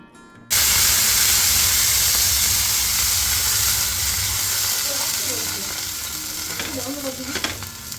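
Dosa batter hitting a hot tawa and bursting into a loud, steady sizzle that starts abruptly and gradually eases, with faint talking and utensil scrapes near the end.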